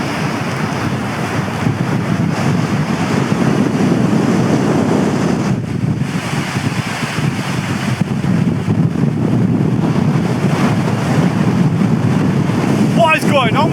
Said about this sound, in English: What is going on with this wind